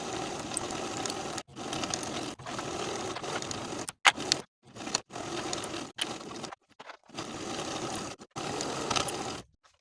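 A sewing machine stitches the lining seam of a fully lined vest with a 5/8 inch seam allowance, running in steady close-up bursts of rapid stitching broken by short pauses where the fabric is pivoted.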